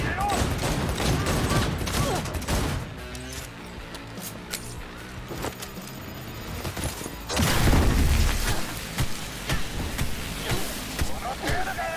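A grenade goes off in Cyberpunk 2077 amid dense, crackling gunfire and booms, with a strong blast and rumble near the middle and continuous game noise around it.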